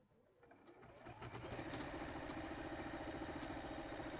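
A sewing machine stitches down the binding on a Bargello quilt, starting up and then running in a steady, fast, close hum of rapid needle strokes.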